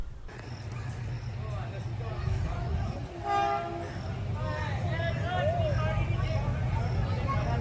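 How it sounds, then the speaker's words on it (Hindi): The 48 Down Rehman Baba Express passenger train approaches at high speed with a loud, steady rumble that builds toward the end. Short horn toots sound over the rumble, and a voice talks beneath the noise. "48 डाउन रहमान बाबा एक्सप्रेस। बहुत ही ज़बरदस्त स्पीड है इसकी यहाँ पे।"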